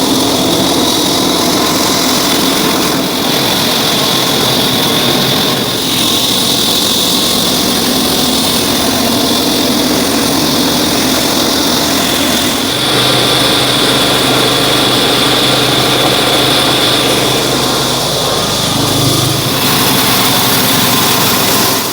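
Engine-driven sawmill saw with a heavy cast-iron wheeled machine runs continuously, a loud steady high-pitched engine whine with a deeper rumble joining partway through, close and alone.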